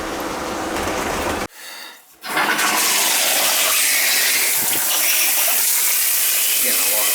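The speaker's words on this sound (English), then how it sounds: "Getting a lot of splatter out the spout there." Water gushes and splatters from a tub shower diverter spout, a loud steady rushing broken by a brief drop in flow before the noisy spray resumes.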